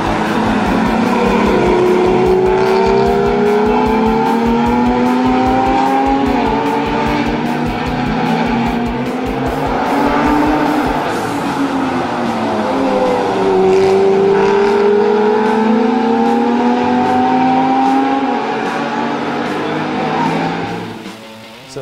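A high-performance car producing about 550 horsepower drives hard. The engine note rises and falls through repeated revving and gear changes, loud and close throughout, with a continuous roar and no talking.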